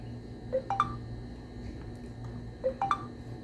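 An Ajax security alarm system being armed gives two identical quick sets of three short rising beeps, about two seconds apart, over a faint steady hum.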